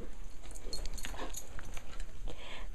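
A dog waiting for a treat whimpers and yips in short, high, thin bursts, several squeaky cries scattered irregularly over a quiet background.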